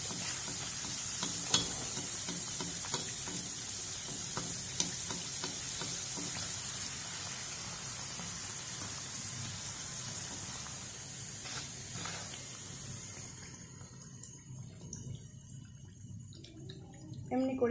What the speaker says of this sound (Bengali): এমনি করে কিন্তু আমি সবগুলো পুরি ভেজে নেব।